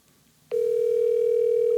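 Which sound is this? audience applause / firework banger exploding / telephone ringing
telephone ringing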